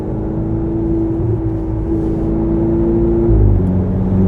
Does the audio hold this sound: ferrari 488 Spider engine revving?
yes